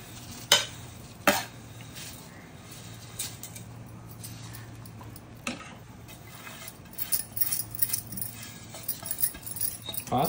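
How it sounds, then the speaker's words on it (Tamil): A spoon scrapes and clinks against a pot of boiling water and vermicelli, with a steady low simmer underneath, a few sharp knocks early on and busier stirring toward the end. "இங்கே சேமியா கிண்டின்னு இருக்கேன்"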